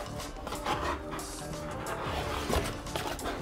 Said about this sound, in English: After you get all the wax scraped off your snowboard